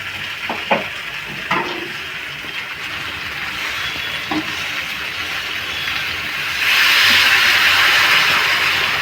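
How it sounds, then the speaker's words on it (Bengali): Water poured into hot, smoking vegetarian Bengali curry with drumsticks and cumin, a loud steady hiss building and swelling near the end, with a few brief utensil knocks early on. "এই জলটা তরকারির মধ্যে দিয়ে দেবো"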